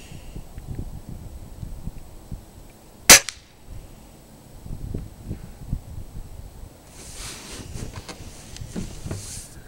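A single sharp crack from a Beeman dual caliber air rifle sounds a few seconds in, outdoors against a quiet background of faint wind and rustling, with no talking.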